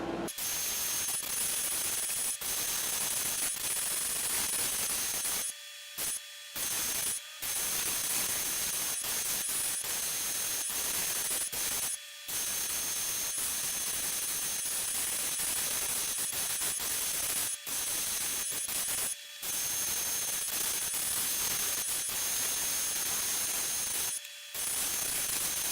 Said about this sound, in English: So let's go ahead and spray these on.